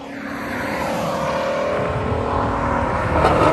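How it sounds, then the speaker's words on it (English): A 2018 Shelby GT350 Mustang's exhaust roars loud and steady as the car passes, its broadband engine rumble holding throughout with a slight swell near the end, while distinct crackles and pops are not clearly picked out. "this is the loudest exhaust that's been on the channel regarding the crackles and pops and regarding the flybys"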